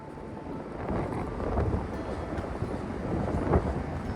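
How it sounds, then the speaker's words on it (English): Strong wind roars through an Appalachian forest in spring, a deep surging rumble that swells and ebbs like a turbulent sea, with gusts buffeting the microphone. "On this day, the wind sounded like a turbulent sea."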